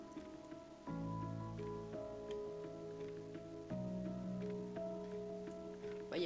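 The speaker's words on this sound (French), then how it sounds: "aujourd'hui, il fait faible pluie, il fait frais, et peut-être qu'il pleut" Light rain falls in a life-simulation video game. A soft, even patter plays faintly and continuously beneath gentle, sustained game music.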